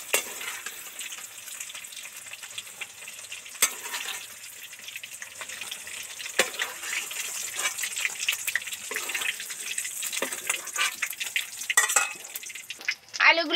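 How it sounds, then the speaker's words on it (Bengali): Okra sizzles as it fries in hot oil for a vegetarian bhindi dish, giving a steady crackling hiss with scattered pops and spatters close by that grow busier toward the end. "এইভাবে ঢেঁড়সগুলো ছাকা তেলে ভেজে নিলে তবেই টেস্টি রেসিপি হবে"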